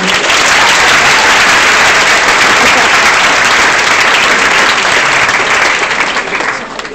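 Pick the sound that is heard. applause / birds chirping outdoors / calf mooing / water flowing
applause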